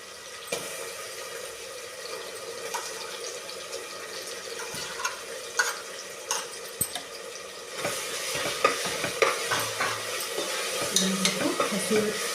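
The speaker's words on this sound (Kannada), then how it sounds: "ಇವಾಗ ತರಕಾರಿ ಹಾಕ್ಕೊಂಡು ಫ್ರೈ ಮಾಡಿಕೊಂಡೆ." Vegetables and ground masala with fresh coconut frying in a pan for vegetable pulao, soft sizzling under repeated scraping stirs of a spoon, growing busier and louder toward the end.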